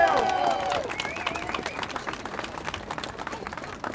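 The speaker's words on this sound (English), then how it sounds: "Big round of applause," Audience applause at a public speech event on family and care, a dense burst of clapping from a crowd that tapers slightly, with a voice speaking briefly at the start.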